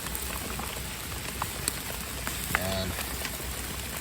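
Rain falls outdoors as a steady, close hiss of patter and drips during burger cooking in the rain. Brief faint sounds and a short voice-like tone rise above it.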